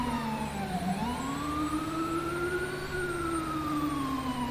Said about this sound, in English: This siren is really quiet.